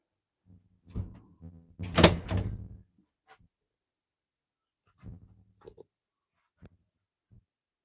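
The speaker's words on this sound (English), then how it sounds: "And then the door, screen door." A cabin screen door opens and closes, making a burst of rattling, creaking and a clattering bang, followed by a few quieter knocks and taps nearby, with no talking.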